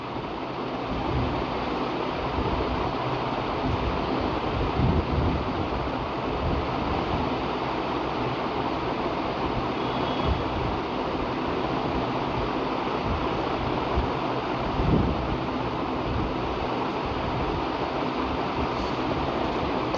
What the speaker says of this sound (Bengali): একটু সময় নিয়ে কাবাবগুলোকে লাল লাল করে মুচমুচে করে ভেজে নিব।